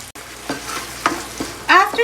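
Tomatoes cook in a pot for Guyanese shrimp curry, with a close, soft sizzle broken by a few short scraping stirs of a spoon.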